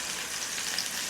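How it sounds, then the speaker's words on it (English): Meatballs browning in a large cast iron skillet, giving a steady, dense sizzle that stays close and even for the whole moment with no voices. "The goal at this point is to brown the meatballs"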